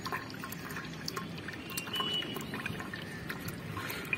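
Cold water flows slowly into the inlet tank of a Supreme solar water heater, a steady trickling splash with scattered drips and gurgles over a constant low rush, close and moderately loud.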